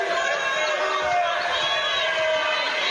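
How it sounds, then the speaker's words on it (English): Spectators file into a basketball arena before a women's college game, filling it with a loud, continuous hubbub of overlapping chatter and movement. An announcer may be talking over the murmur. "Crowd still filing in"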